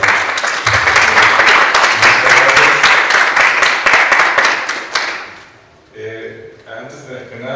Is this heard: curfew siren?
no